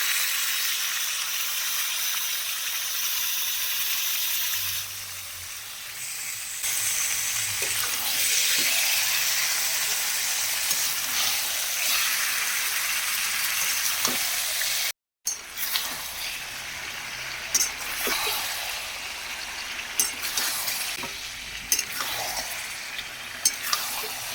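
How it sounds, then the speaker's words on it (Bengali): Chicken fries in a spice masala in a home kitchen, a steady close sizzle and hiss running throughout, with occasional faint scrapes of stirring. "নেড়ে চেড়ে ভালো করে কষিয়ে নিতে হবে।"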